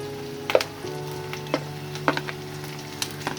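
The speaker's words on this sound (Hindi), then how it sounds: "अब इसको सॉफ्ट होने तक फ्राई करते हैं।" Onion frying in a pan while being cooked down until soft for cauliflower kofta, a soft steady sizzle with a few light clinks of a spoon against the pan.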